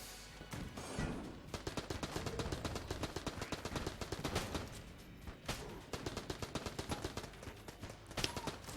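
Rapid automatic gunfire from a weapon in a video game, dense bursts of repeated shots running almost continuously with brief gaps, loud and close with faint background game noise.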